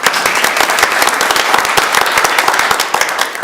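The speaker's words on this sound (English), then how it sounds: "Amber, you can clap, that's fine." Audience at a board of education meeting applauding student string players, loud dense clapping close by, steady and sustained with no talk over it.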